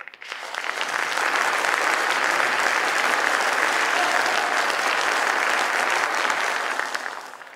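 An AI-generated crowd clapping and cheering swells in, holds as dense, steady applause for several seconds, then fades out, with no talk over it.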